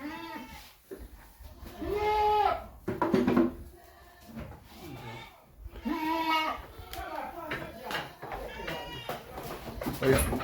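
A goat bleats in several drawn-out calls during milking on a Jamaican goat dairy farm, with people talking close by through much of it.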